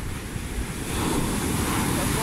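Storm surf on the Mediterranean shore at Belek washes in with a broad, steady roar, swelling slightly partway through, with wind noise buffeting the microphone.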